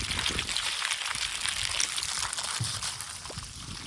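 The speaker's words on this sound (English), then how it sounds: "So now this hose is flushed through" Water rushing and splashing as it flushes through a thawed garden hose on a farm, a steady, broadband pour that runs continuously and fairly loud throughout.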